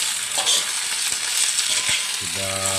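Papaya shoots fry in oil with a loud, steady sizzle and occasional stirring thumps, and a brief tonal hum enters near the end; nobody speaks.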